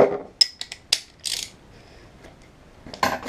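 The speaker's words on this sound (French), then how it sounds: "Et maintenant on va serrer quand même au couple la roue" A torque wrench tightening the wheel bolts on a Seat Ibiza 1.9 SDI, several sharp metallic clicks and short ratcheting bursts spaced irregularly and close by, with quiet gaps between them.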